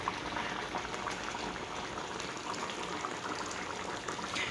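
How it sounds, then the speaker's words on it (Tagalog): A pot of coconut milk with salmon bubbles at a steady rolling boil, dense continuous gurgling and hissing close by, with no voices. "kumukulo na ang ating gata at saka ang ating isdang salmon"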